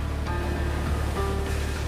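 Ocean waves roll and wash continuously around a sailing ship in fog off the Irish coast, a steady loud surf with a windy rumble underneath.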